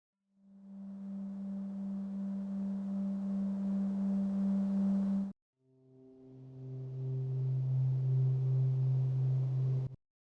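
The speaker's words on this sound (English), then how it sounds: "I sampled a noisy whirly note and rolled off the attack so it sounded more like a pad." Two sustained synth pad notes made from a sampled noisy whirly note with the attack rolled off, each fading in softly, humming steadily with a faint wobble, then cutting off abruptly; the second sits slightly lower.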